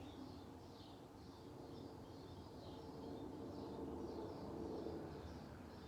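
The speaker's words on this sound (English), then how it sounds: "I come outside and I practice listening to the bird song." Morning birdsong outdoors, faint repeated chirping phrases at a distance over a low steady ambient hum, no voices.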